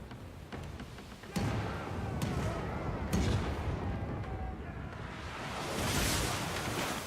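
Ship cannons firing during a naval battle in the video game Pillars of Eternity 2, a few sharp booming blasts over a constant rumbling battle ambience, with a heavier swell of noise near the end.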